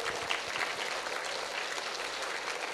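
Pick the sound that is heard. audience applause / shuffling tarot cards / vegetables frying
audience applause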